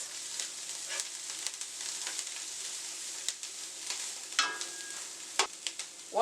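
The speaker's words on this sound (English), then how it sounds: "And we're sauteing this." Kale sautéing in a pan, a continuous close sizzle and crackle with occasional clinks and scrapes of stirring throughout.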